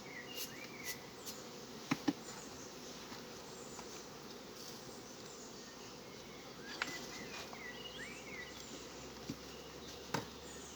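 Honeybees hum continuously at a beehive in a quiet, even buzz, with a few faint clicks and taps now and then.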